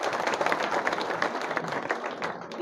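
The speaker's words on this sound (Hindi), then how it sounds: "आप सब जने जोर से तालियां बजाओ" Crowd applause at a Bharatiya Janata Party political gathering, a steady wash of many hands clapping at moderate distance for a few seconds, with no talk over it.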